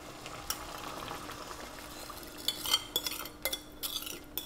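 Liquid mixture for Vietnamese caramelized braised fish is poured into a pot on the heat and stirred, soft liquid hiss under a series of sharp metallic clinks and scrapes of a utensil against the pot, close by.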